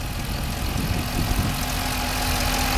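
A 2012 Dodge Charger SRT-8 engine idles steadily and close by, a low, even rumble with a faint lumpy pulse and no voices.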